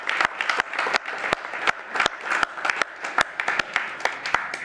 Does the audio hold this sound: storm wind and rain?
no